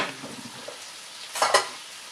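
Rice and a small drop of oil hitting a red-hot pan, giving brief bursts of sizzle and stirring near the end of an otherwise quiet stretch.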